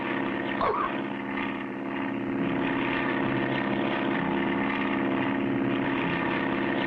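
A propeller plane flying in an old animated adventure, its engine drone loud and continuous throughout, with no talk over it.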